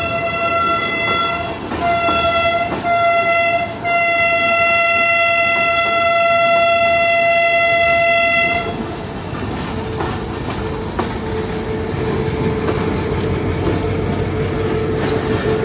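A train crosses an iron suspension rail bridge in Pakistan, its loud sustained horn blaring for about eight seconds over rumbling, clattering wheels, after which the steady rolling rumble continues alone.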